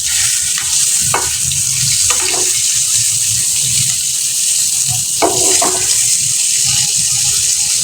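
Fish shallow-fries in oil with a constant bright sizzle, broken by occasional scrapes and clinks of a spatula spooning oil over the top.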